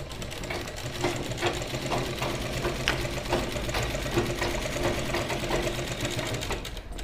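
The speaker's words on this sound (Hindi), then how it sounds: "सेम पहले की तरह सिलाई लगाएंगे।" A sewing machine stitches salwar fabric in a steady, continuous whirring run with a light mechanical rattle, close and fairly loud, with no talking.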